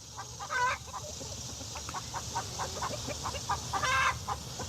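Chickens in a garden pen clucking steadily, a busy scatter of short, soft clucks with a few louder squawking calls, faint and somewhat distant over low background noise with no talking.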